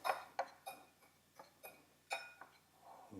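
Camera clicking and ticking while focusing, a series of about eight quiet, sharp clicks spaced irregularly, close and faint with no talking over them.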